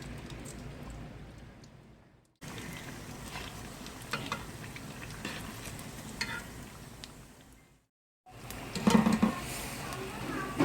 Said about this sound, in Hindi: आपका भी तेल इतना ही गर्म होना चाहिए कि जब आप इसमें कचौरी डालें तो वो कचौरी नीचे बैठ जाए